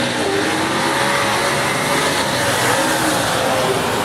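Super Sedan race cars with 366 cubic inch V8 engines roar around the Rockhampton Speedway dirt track, a dense, continuous loud engine drone filling the whole stretch with no break.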